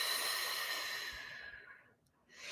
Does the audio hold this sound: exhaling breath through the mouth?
yes